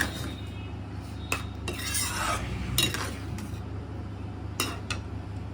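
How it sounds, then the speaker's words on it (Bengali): Boiled prawns with salt stirred in a pan, a steady scraping and shuffling with a few sharp utensil clinks against the metal over a constant low background hum; no talking. "এবার এর মধ্যে সামান্য পরিমাণে লবণ দিয়ে দিচ্ছি দিয়ে ভালো করে মিশিয়ে নিচ্ছি"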